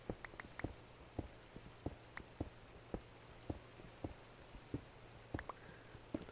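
Rain in Minecraft heard from down in a mine shaft, a faint steady patter with scattered sharper drips and taps recurring every half second or so, no one talking.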